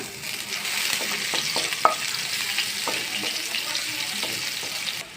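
Chopped onion fries in hot oil in a pan for a rohu fish curry, a steady close sizzle broken by a few stirring scrapes and taps, with one sharp clink midway.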